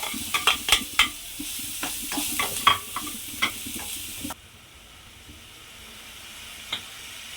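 Biryani spices and cut onions fry in a pan with a hot sizzling hiss and quick clicks of stirring for several seconds, then the sizzle drops to a quiet simmer with one more faint scrape, close and with no voices.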